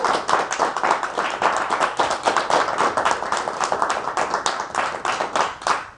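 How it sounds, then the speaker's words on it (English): Audience applause for a professor speaking on New Zealand fresh water, a steady burst of many hands clapping close by for the whole stretch, with no talk over it. "big round of applause for Dr."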